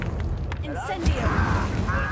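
A fire spell cast during a battle in the Hogwarts Legacy video game, a burst of whooshing, crackling magical effects with a sharp boom, heard over game noise with a voice shouting at the start.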